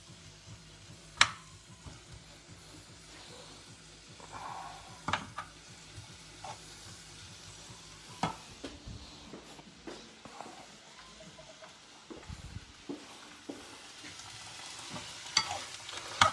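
Rabbit pieces frying over high heat for Spanish-style rabbit, a soft continuous sizzle with scattered scrapes and knocks as the pieces are stirred and moved about the pan, close and moderately quiet.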